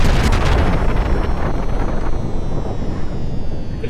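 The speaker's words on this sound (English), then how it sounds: "Don't die to the explosion." An explosion booms in the video game Ultrakill, a loud, broad rumbling blast that fades slowly into a low roar, with no talk.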